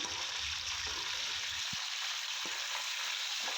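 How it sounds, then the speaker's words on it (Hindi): Steady sizzling and crackling of chicken frying in a hot pan for haleem, with a few soft clinks of stirring, no voices. "चिकन को हम लोग जो है इसमें फ्राई करेंगे"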